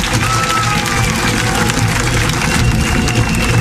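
An outdoor Mardi Gras parade crowd in Basse-Terre applauds and cheers the carnival group Contact, a dense, continuous wash of clapping and crowd noise with a low rhythmic thump underneath.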